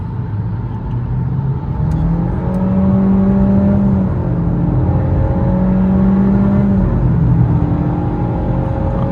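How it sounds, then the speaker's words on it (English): A car in sport mode accelerates at full throttle, its engine note climbing and holding a loud, close, continuous roar for several seconds, with no one speaking. "Okay, put in sport mode. Go with the full throttle or? Yeah, go the full throttle."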